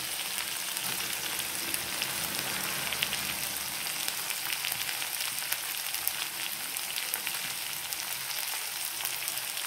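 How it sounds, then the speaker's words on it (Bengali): Garlic and chopped onion with turmeric fry in oil, giving a steady, dense sizzle that holds evenly throughout with no talking. "এগুলো একসাথে একটু ভেজে নেব।"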